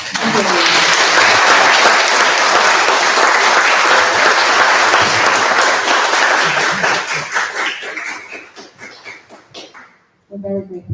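A city commission meeting audience gives police officers loud, sustained applause that fills the room for about eight seconds before breaking into scattered claps and dying away, with a brief burst of voices at the end.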